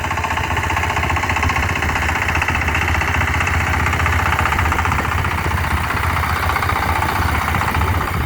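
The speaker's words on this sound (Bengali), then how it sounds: "এটা হচ্ছে ডিএফ পাওয়ার টিলার" A DF power tiller engine running in third gear while plowing a field, a loud, continuous, close diesel chug and knock with steady vibration throughout, no voices.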